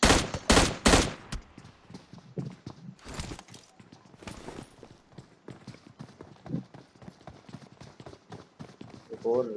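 Gunfire in the battle royale game PUBG: a few loud, sharp shot bursts open the clip, followed by scattered, fainter pops and clatter running under continuous excited commentary.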